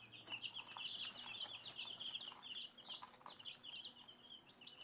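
Baby chicks outdoors give a steady run of high, overlapping peeps and soft clucks, close by and moderately loud, with no talking.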